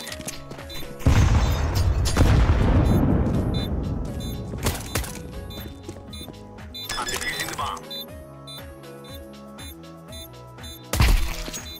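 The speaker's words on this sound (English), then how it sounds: "Grenade out!" A grenade blast in Counter-Strike 2 lands as a loud broadband boom with a long crackling decay, followed by scattered game sounds, clicks and a second sharp burst near the end; no voices in the moment.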